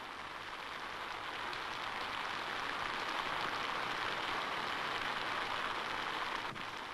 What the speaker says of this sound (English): And in the midst of carnage, the rains came.